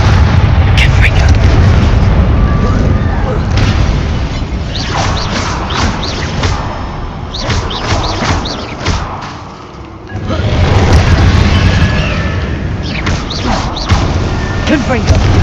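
Confringo blasting-spell explosions from the game Hogwarts Legacy, loud booming bursts that come again and again over a dense battle din, with a brief lull near the middle before the blasts resume.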